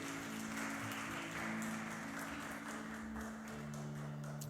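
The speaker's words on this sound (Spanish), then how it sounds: "Dale un aplauso a Dios." Congregation applauding God in a church, a steady wash of clapping that holds at even loudness throughout, with a low sustained tone running underneath.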